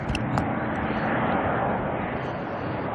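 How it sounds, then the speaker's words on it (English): Jetstar jet arriving from Dunedin at Auckland Airport, a steady broadband engine roar that holds loud and even throughout, heard from some distance. "Just in time for the next Jetstar arrival from Dunedin."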